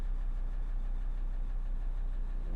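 A Volkswagen T4 Caravelle van engine idling steadily after starting, a close, constant low rumble with no talk.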